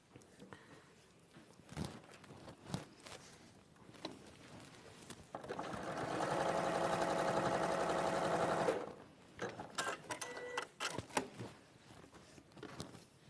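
A sewing machine joins fabric pieces in a row in a single steady run of about three seconds, surrounded by quieter handling clicks and rustles.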